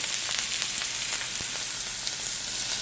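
Water at a steady boil in a pot for noodles, a continuous bubbling hiss with small scattered pops, close and even throughout.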